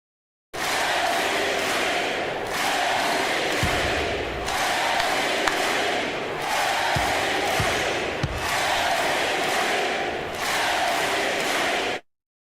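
Basketball fans in an arena stands cheer and roar in a loud, sustained crowd wash that swells and dips in waves, with scattered clapping inside it.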